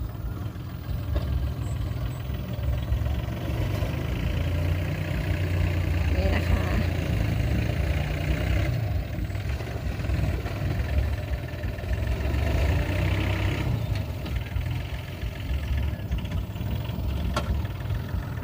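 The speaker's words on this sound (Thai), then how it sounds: "รถไถลงไปในสะพานแล้วนะคะ" Tractor engine rumbling steadily as it drives onto a bridge on a farm being prepared for date palm planting, a continuous low drone that holds at moderate level throughout with faint background activity.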